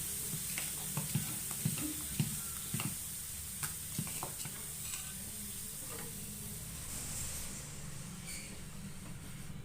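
Fenugreek dosa batter spread on a well-heated griddle, giving a steady close sizzle with soft scraping and tapping bursts over the first few seconds, then settling into an even hiss.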